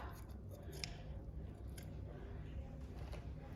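A knife or scissors trims the fat from the edges of a bacon rasher, giving faint, close, soft snipping and squishing sounds over a low background hum.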